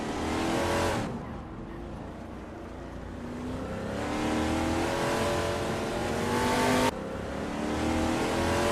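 In a racing video game, race cars including a 1971 Mercury Cyclone drive past with continuous engine roar that rises and falls with revving and gear changes, loud and close, with abrupt cuts between engine notes.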